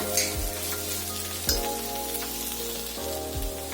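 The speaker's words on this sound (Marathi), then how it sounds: "आता भाजी 2 ते 3 मिनिटं चांगली परतून घेतली आहे।" Potato bhaji sautéing in a pan gives a steady close sizzle and frying hiss, with a few soft scrapes as it is stirred.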